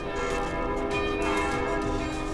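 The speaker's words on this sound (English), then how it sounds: "In Sweden, the New Year's Eve is brought in with all the Lutheran church bells ringing" Lutheran church bells in Sweden ring in the New Year, a full, sustained wash of overlapping bell tones heard continuously and fairly loud.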